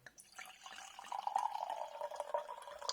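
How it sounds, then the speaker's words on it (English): Red perry from Ross on Wye is poured hard into a glass, a soft gurgling, splashing stream of liquid with small drips and fizz, quiet and close, with no talking. "that might just be from me pouring it hard into the glass"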